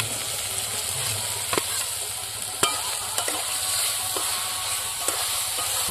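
Spices with Kashmiri chilli and black pepper sizzle and fry in a pan as fried small prawns go in, with steady close hissing and a few sharp stirring knocks from a utensil.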